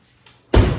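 On an OBS Ford pickup with a faulty door, a faint tap is followed by a heavy, close thud as the door is pushed and fails to latch, ringing on briefly afterward.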